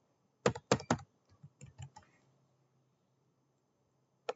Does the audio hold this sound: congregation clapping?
no